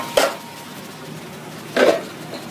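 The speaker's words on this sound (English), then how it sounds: "Now the lamb goes into the pan" Two brief clatters of a pan as lamb goes in for a shepherd's pie, spaced apart and close by, with faint sizzle in between.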